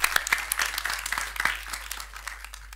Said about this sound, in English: So a round of applause for him for all that he's achieved.